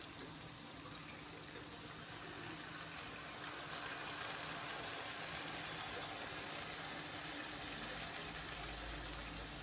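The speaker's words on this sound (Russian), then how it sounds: "Заливаем водой." Water poured into a pot of buckwheat, a steady broadband hiss and rush filling the whole stretch at even loudness, close and continuous with no talk over it.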